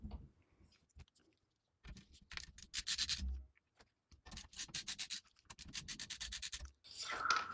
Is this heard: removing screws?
yes